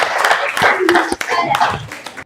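A classroom group claps for a student named Samuel, a brief burst of close, dense hand clapping mixed with overlapping voices.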